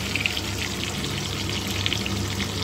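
Ginger paste fries in hot oil with a bay leaf for a Bengali pointed gourd dish, a continuous close crackling sizzle with small pops, no voices.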